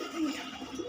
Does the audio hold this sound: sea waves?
no